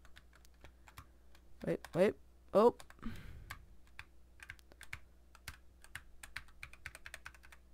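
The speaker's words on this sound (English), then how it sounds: "okay, I'm gonna press every button on my keyboard" Keyboard keys are tapped in quick, irregular clicks during a Roblox boxing game, close and fairly faint, while a person speaks briefly over the typing.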